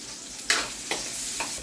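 Sliced onion rings frying in a pan for eggplant adobo, a soft steady sizzle broken by three brief scraping stirs, close and moderately loud.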